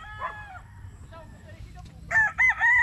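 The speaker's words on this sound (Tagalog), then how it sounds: "Ito mga kusinada kong manok." A rooster crows loudly and close near the end, a sharp drawn-out call in bursts, after softer clucks and distant crowing from other chickens in a fowl yard.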